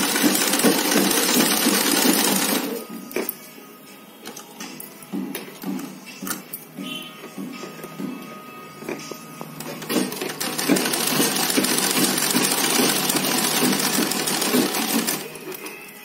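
A sewing machine stitches a three-layer cotton fabric face mask, running in loud continuous bursts with a quieter stretch of intermittent stitching and handling between them, heard up close.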